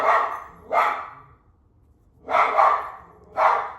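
A dog barks outdoors in three separate bursts, each a loud, close cluster of barks with short gaps of quiet between them and no talking.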